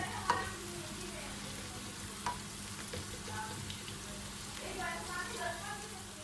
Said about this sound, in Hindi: इसमें मैं 1/2 टीस्पून ज़ीरा है, 1/2 टीस्पून अजवाइन है। इसको हल्का सा मैं फ्राई करूँगी